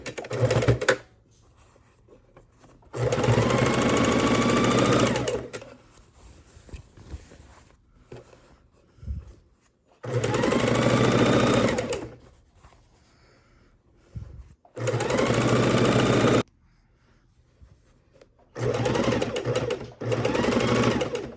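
A sewing machine stitches binding onto a quilt in four loud bursts of rapid, buzzing whirr, each lasting two to three seconds, separated by quiet pauses.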